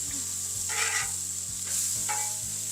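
Bone-in pork chops sizzle on a Blackstone griddle while a metal spatula scrapes and flips them, giving a few short scraping strokes over a steady low hiss.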